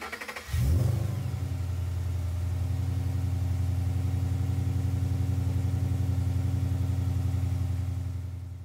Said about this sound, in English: we started the engine and topped off the reservoir.